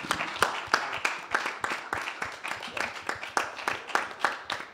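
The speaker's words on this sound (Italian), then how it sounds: "applauso, grazie" Rhythmic clapping from a small audience in a room, sharp, evenly spaced claps repeating steadily for several seconds, fairly close and moderately loud.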